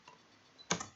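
Typing on a computer keyboard while working in Stata software: a faint tap near the start, then a close, crisp cluster of two or three keystrokes near the end in a quiet room.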